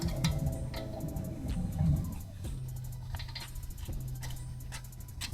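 A ratchet with a 10mm socket loosening the ABS sensor line bolt on an Acura RSX Type S during a coilover install, quick clicking pawl bursts, close and fairly quiet, with light metallic handling noises.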